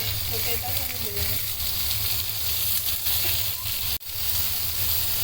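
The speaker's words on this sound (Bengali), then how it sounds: "Chicken fry." Chicken frying in a pan for burger filling sizzles steadily and close, with a voice murmuring briefly near the start and a short dip in the hiss partway through.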